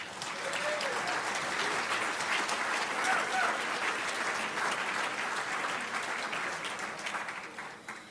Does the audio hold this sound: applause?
yes